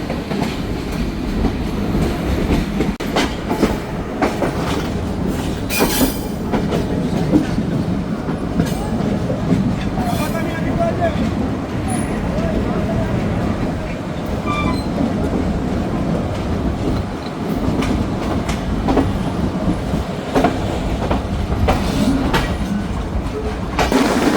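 Banalata Express train rolling slowly through a station in Bangladesh, with a continuous loud rumble, clickety-clack of wheels and occasional squeals, close by and steady throughout.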